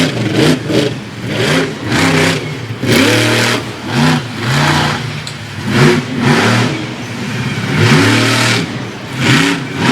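A monster truck engine roars in repeated loud revving bursts, each rising and falling in pitch, during a freestyle run at a Monster Power event in Fredericksburg, Virginia.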